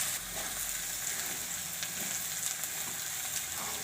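Sprouted moong and moth beans frying in a pan give a steady, close sizzle that runs evenly throughout, with light crackles and occasional faint stirring scrapes and no voices.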